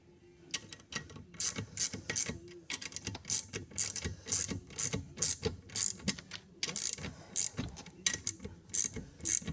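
A cable tensioner on a Nieuport 11 model aircraft build being tightened gives off rapid, close ratcheting clicks in uneven bursts, steady and fairly loud, with no talking.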